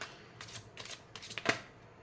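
Tarot cards being shuffled close up, a quiet run of papery riffling bursts with one sharper snap near the end, no voices over it.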